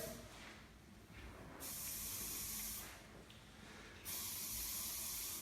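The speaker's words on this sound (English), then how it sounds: "So a little bit of spray." Hairspray hisses onto a short haircut in two sustained bursts separated by a short pause, close and loud, with quieter hissing around them.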